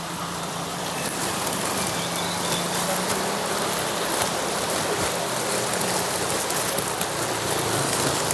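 Rain falls steadily as a dense, loud hiss, drumming on surfaces and curtains at a market with souvenir and clothing stalls, constant throughout with no voices.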